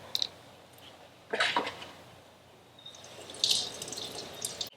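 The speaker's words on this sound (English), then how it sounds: "So I always rinse them before I put them on the grill." Portobello mushrooms are rinsed under a running kitchen tap, faint water splashing and dripping with a few louder bursts of spray, close by and quiet.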